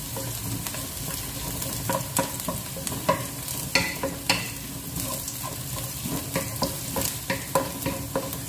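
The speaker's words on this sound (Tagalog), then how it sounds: "lutuin natin guys hanggang medyo malambot yung ating sibuyas" Onions softening in a hot pan for a prawn and green mango curry, a constant sizzle broken by frequent clattering scrapes of a utensil stirring, near and without talk.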